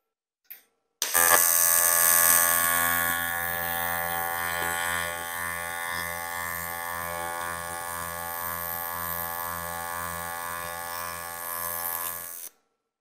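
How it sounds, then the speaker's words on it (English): AC TIG welding on a Yeswelder CT2050 at 160 amps with a foot pedal, joining 3/8 steel to 1/8 for a diesel fuel tank: after a brief click, a steady close buzzing hum holds for about eleven seconds. "We have it set up for AC TIG with the foot pedal at 160 amps"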